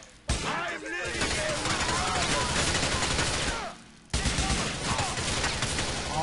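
Dense GTA IV gunfire rattles almost without pause in loud, overlapping volleys, breaking off for a moment before resuming at full intensity.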